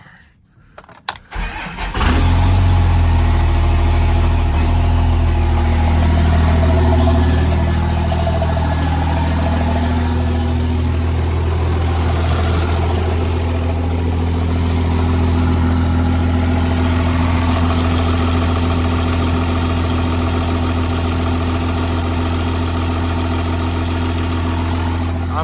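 A 2nd generation Cummins diesel pickup engine cranks and catches after a brief quiet start, then settles into a loud, steady, deep idle that runs unbroken close by.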